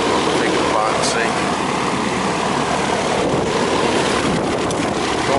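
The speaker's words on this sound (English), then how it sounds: "No, it's only the compressor's running." The compressor of a central air conditioner that is not cooling and is low on refrigerant runs with a steady, loud mechanical drone, with speech over it.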